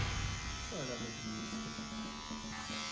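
A Wahl 8148 Magic Clip hair clipper switches on partway through and runs with a steady close electric buzz, with people talking over it.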